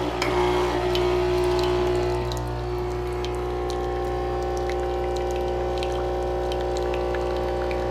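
A coffee pod machine pours coffee with a steady liquid stream over a constant low motor hum, loud at first and easing slightly after two seconds, with no talking.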